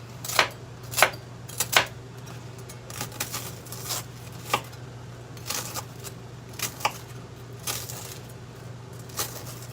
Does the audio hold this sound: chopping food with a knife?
yes